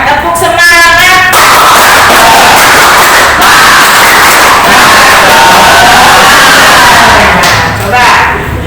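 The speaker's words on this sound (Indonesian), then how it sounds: "Jadi semuanya tepuk semangat." A roomful of schoolchildren join in a spirit clap chant, their voices shouting loudly in unison with rhythmic bursts and cheering, very close and sustained for several seconds.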